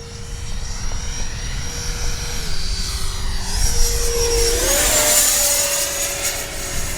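A Freewing 90mm J-10 RC jet with an afterburner flies past, its steady turbine whine rising and falling in pitch as it passes, loud and continuous outdoors.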